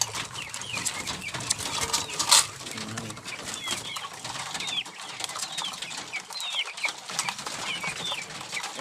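Racing pigeons in a loft, soft cooing calls and bursts of wing flapping over a busy outdoor background, fairly close and continuous.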